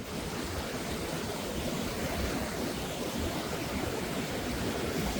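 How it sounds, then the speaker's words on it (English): Steady, dense rush of water from a waterfall in the UK, a continuous broadband roar at constant loudness with no talking. "This is the final one, the 4th waterfall."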